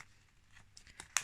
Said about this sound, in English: I'm just going to tear that piece off